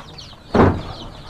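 Chicks in a brooding cage give thin, high peeping chirps throughout, with a sudden loud rattling clatter midway that fades back under the soft, continuous cheeping.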